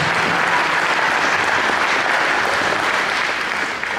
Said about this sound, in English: So let's give Farm Bureau Insurance a round of applause for those awards.